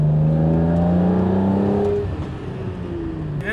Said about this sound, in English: The engine just revs up on this car is amazing.